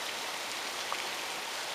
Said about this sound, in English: we finally got some rain